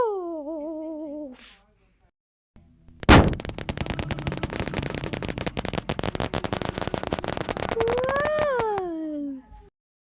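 Bonfire Night fireworks burst with a sharp bang and then a long, dense run of rapid crackling pops. Excited voices exclaim before the fireworks and again as the crackling fades.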